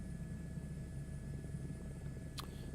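A default H-125 helicopter in Microsoft Flight Simulator 2024 drones with a faint, steady low rotor and engine hum, with a brief sharp click near the end.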